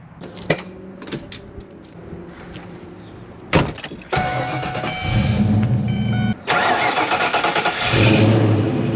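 A loud 1992 Fox Body Mustang GT 5.0 engine starts with sharp bursts, then roars steadily up close, revving and dropping briefly as gears shift before building again.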